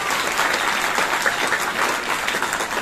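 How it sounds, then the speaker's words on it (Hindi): Steady, dense applause from a crowd welcomes an honoured guest at a girls' senior secondary school celebration in Madanheri, filling the moment evenly with no break. "जोरदार तालियों से स्वागत"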